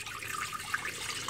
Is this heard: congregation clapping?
no